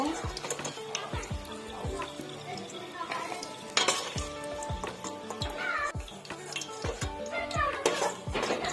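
Wheat sattu biscuits fry in hot oil in a pan, a soft sizzle running under frequent clattering of a spatula and utensils against the pan, with busy stirring and scraping throughout.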